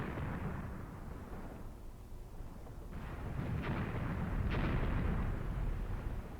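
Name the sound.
artillery fire in the video game Graviteam Tactics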